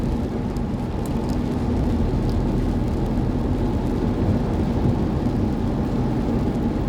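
Rain falls steadily on a car driving along Thai Highway 226, a dense, even hiss mixed with low road and engine rumble that stays constant throughout.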